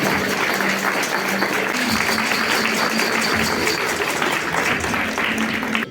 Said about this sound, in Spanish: Nos damos un aplauso grande y a Tayta Proaño